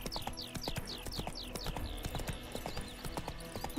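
Rapid, even clip-clop of horse hooves in The Witcher 3 video game, a quick galloping rhythm over a steady background of game ambience and music.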